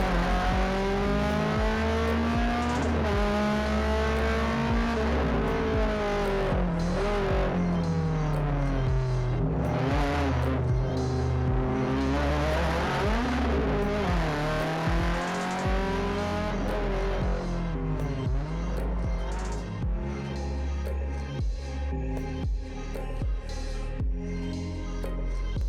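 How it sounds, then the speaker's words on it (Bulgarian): Opel Astra race cars at the Burgas circuit, engines revving hard and rising and falling in pitch as they accelerate and pass, a loud continuous roar with no voices. "За Димитър това беше първо състезание с новия автомобил Opel Astra"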